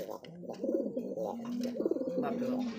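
A Bombay pigeon coos close by in rolling, throaty phrases repeated several times, with a soft voice in the background.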